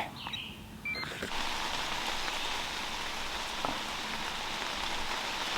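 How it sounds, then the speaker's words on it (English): Steady rain pours down in a dense, even hiss after a brief rustle at the start, continuing without pause. "It's raining."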